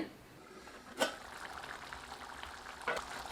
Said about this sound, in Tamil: இப்போ கொதி வர ஆரம்பிச்சிருச்சுங்க